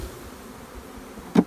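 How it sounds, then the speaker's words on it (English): Honey bees from a hive being shaken off their frames buzz in a steady close drone, with a short louder swell at the very end. "we're just shaking all the bees down, like Amanda was saying."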